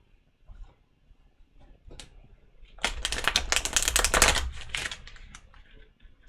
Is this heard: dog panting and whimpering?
no